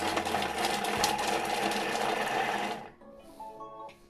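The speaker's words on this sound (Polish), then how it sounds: "Zamykamy pokrywą z miarką 3 sekundy, obroty 5, siekamy cebulę." A Thermomix food processor chops onion at speed 5, whirring loudly and steadily for about three seconds, then stops abruptly, leaving quieter clinks and room noise.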